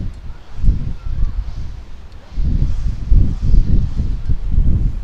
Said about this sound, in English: we're having wind gusts out here now. The wind's definitely picking up.